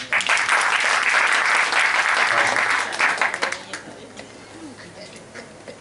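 A hall audience at an Urdu literary tribute event claps loudly and densely for about three seconds, then the applause thins into a few scattered claps and fades into quiet room sound.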